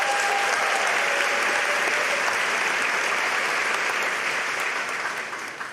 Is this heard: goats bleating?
no